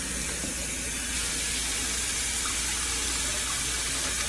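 Cold water runs steadily from a kitchen sink tap, a soft continuous broadband rush at moderate volume with no talking over it.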